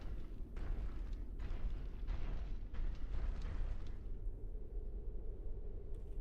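Sustained rumbling gunfire and heavy explosions from the Armored Core 6 video game roll on as a dense, low, continuous barrage, with a few sharper bursts early before thinning out.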